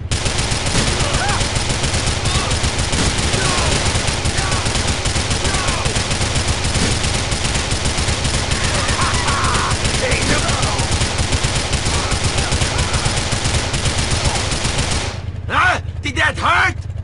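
Gunfire in Grand Theft Auto 4, rapid automatic bursts running almost continuously and loud over a dense game mix, dropping to a few sharp separate shots near the end.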